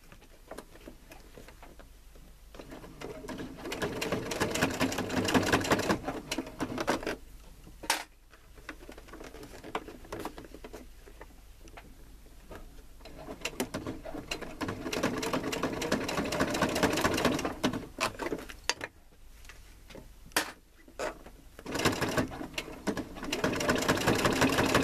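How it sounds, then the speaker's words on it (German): A sewing machine stitches a fabric card pouch in steady rapid runs of needle patter, with short pauses between bursts, close and clear, and no talk. "Und fange jetzt einmal hier an zu nähen"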